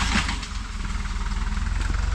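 A heavy truck engine rumbles steadily at idle on farmland being prepared, a low throbbing drone that holds constant throughout with no voices.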